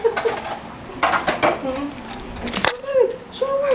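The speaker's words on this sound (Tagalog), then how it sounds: "naghuhugas ka ng pinggan" Plates and pots clatter at a sink during dishwashing, several sharp knocks and clinks mixed with running water while voices, including a child's, speak over them.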